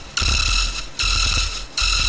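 A synthesizer preset with no pitch-wheel bending plays three bright, buzzy sustained notes in a row. Each starts sharply, holds briefly and is separated by short gaps, loud and close.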